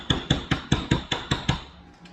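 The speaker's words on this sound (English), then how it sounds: "you can take a hammer and just tap it a little bit" A hammer taps a pin into a window part on a 1969 Mustang BOSS 302 during glass installation. Eight close, crisp metallic taps land at a steady quick rhythm, then stop.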